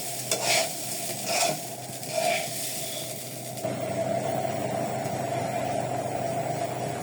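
Rice being stir-fried in a pan for chicken fried rice gives a steady sizzle and hiss, with a few scraping stirs of a utensil early on, close and continuous with no talk.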